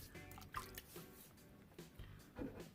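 Water drips onto the head of a shaving brush during a wet shave with lather, a few soft, scattered drips and small splashes up close with no talking.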